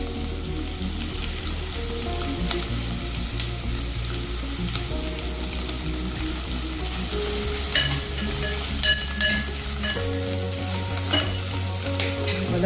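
Sliced onions, two medium ones, sizzle and fry steadily in a hot pan while being stirred for Kumbakonam kadappa, a continuous close frying hiss with occasional utensil clinks and no talk.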